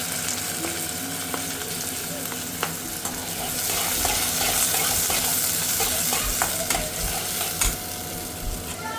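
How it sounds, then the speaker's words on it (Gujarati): Onions frying in oil with chili, ginger and garlic: a steady close sizzle with scattered stirring scrapes, loud and continuous, no speech. "મરચું અને અદરક લસણ તેલમાં નાખી દીધું છે હવે એમાં ડુંગળી નાખી દીધી"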